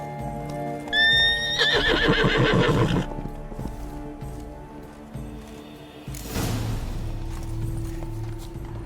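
A unicorn in The Witcher 3 gives a loud, close neigh and whinny, followed by a snort and stamping hooves, then a second burst of rustling movement and snorting.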